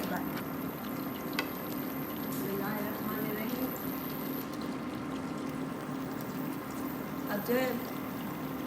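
About two tablespoons of water are poured into a freshly cooked dip for stuffed peppers, a soft liquid splash heard under someone talking.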